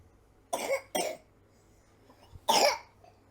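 Three sharp, close coughs from a person indoors at home, two quick ones back to back and then a single louder one after a short pause, against near silence.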